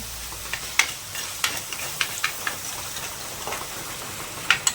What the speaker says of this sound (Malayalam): തക്കാളി ഒന്നും ആവണ വരെ ഇടയ്ക്കിടയ്ക്ക് ഇങ്ങനെ ഇളക്കി കൊണ്ടേയിരിക്കുക